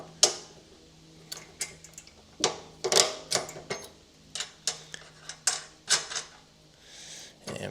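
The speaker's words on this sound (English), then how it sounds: "we're just gonna go ahead and hand tighten that too" Metal bolt and nut being hand-tightened on a Rolux Pro height adjuster bracket during installation, giving a run of sharp, irregular ticking and clicking taps close by, with no talk.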